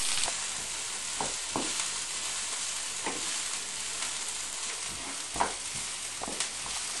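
Garlic and onions fry in a pan with a quiet, steady sizzle. Occasional soft knocks and scrapes from stirring come through, close by and without any voices.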